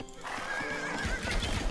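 Cavalry horses in a video game, a loud close neigh and whinny followed by trotting hooves clip-clopping, with no talking.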